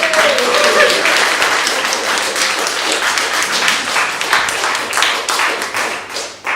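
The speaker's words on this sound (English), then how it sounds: "So a huge round of applause for Michael Home, please" Audience applause for a reader at a writing group event, brisk close clapping from a small crowd with distinct individual claps, sustained throughout and tapering off at the end.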